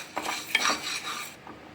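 Moong dal dry-roasting in a pan while being stirred, giving a short burst of dry scraping and light rattling of grains against metal, close and fairly clear.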